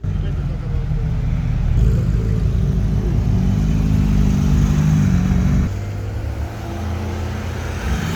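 Porsche race cars, including a 993 CS and Manthey-Racing cars, pulling out onto a track during a track day, with loud steady engine drone and revving close by that drops a step partway through.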